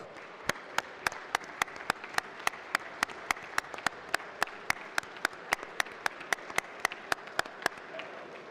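Rhythmic applause in the Ukrainian parliament: a steady, evenly spaced clap beat, roughly three claps per second, ringing out sharp and fairly distant over a murmuring hall for about eight seconds.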